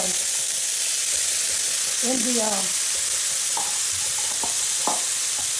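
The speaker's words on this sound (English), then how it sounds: "So I'm adding some peppers and I'm gonna let this cook with the pork chop grease." Bell peppers fry in leftover pork chop grease for smothered pork chops, giving a steady close sizzle with brief scraping stirs and clinks of a utensil against the pan, and no talking.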